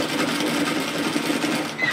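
A sewing machine stitches fabric for a pleated peplum twist top in a steady, close mechanical whir that runs continuously with no voice over it.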